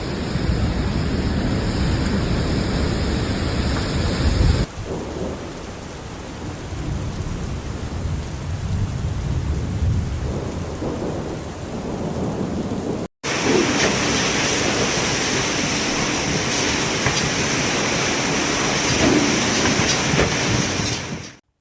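Severe thunderstorm in Yizhang, China, with strong winds, heavy rain and hail: a dense, continuous roar of pouring rain and wind with rumbling, broken by abrupt cuts between loud stretches.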